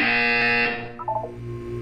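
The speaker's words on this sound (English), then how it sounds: "You will hear a buzzer." A loud, harsh electronic buzzer from the video game Portal 2 blares for under a second, then cuts off, leaving a few soft electronic blips and low hum.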